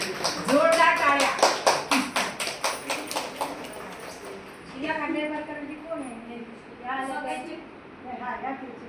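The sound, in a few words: applause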